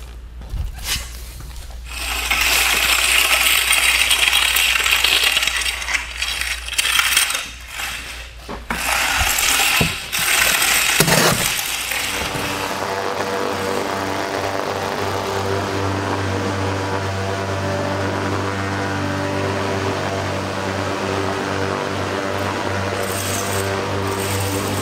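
A plate compactor runs over damp sand spread on clay pavers. Its loud, steady mechanical drone and rattle continues throughout, with harsher, uneven clatter early on before it settles into an even hum.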